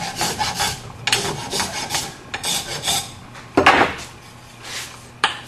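A hand rasp filing wood around the collar at the head of a hammer handle, rough scraping strokes in irregular bursts with a few sharp knocks, close and fairly loud.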